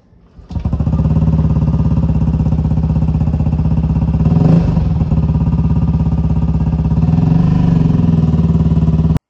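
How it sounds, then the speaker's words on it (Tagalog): A scooter fitted with a TRC aftermarket exhaust pipe and silencer starts up and idles with a loud, close, rapid rumbling putter, one brief rev blip midway, then steady burbling until cut off. "Sound check ng may silencer na TRC."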